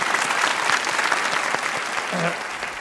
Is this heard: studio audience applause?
yes